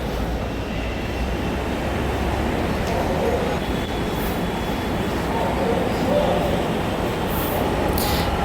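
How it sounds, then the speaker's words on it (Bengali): A Dhaka metro rail train rolls into the station from the opposite side, its steady low rumble and hum filling the platform continuously as people speak nearby. "মতিঝিল থেকে উত্তরা দিয়াবাড়ি যাওয়ার মেট্রো রেলটা চলে এসছে আমাদের বিপরীত পাশ থেকে"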